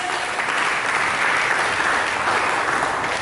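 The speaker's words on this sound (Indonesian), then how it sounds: "Berikan tepuk tangan bagi Yesus." A church congregation claps in sustained, dense applause, a steady wash of many hands at even loudness throughout.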